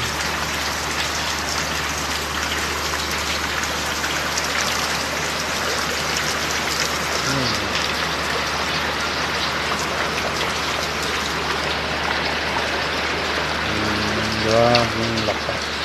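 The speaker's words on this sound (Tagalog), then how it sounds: "ulan na lang." Steady, dense rainfall pours down continuously after a storm, a broad hiss of drops hitting surfaces, with a brief faint voice near the end.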